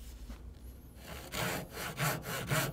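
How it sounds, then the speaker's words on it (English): A hand saw cutting down through wood for a rabbet joint, starting quietly and then settling into steady rasping strokes, close and fairly faint, with no talk. "I'm going to drop the saw into that stop cut that I made"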